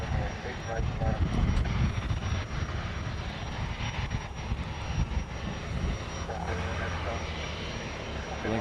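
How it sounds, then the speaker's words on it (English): A KC-135 at Honolulu airport runs its engines with a sustained, distant roar and whine at night, and radio-style chatter and faint voices sit over the steady drone. "So this is a KC-135."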